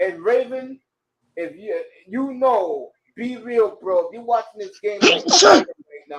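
During excited talk about a Cowboys football game, a person gives one sharp, explosive sneeze near the end, loud and close, right after a stretch of continuous speech.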